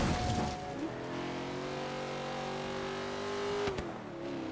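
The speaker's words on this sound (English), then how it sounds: "Car sounds so good." A car engine in the racing game Forza Horizon 3 holds a steady, smooth drone, dipping briefly near the end before settling again, close and alone without talk.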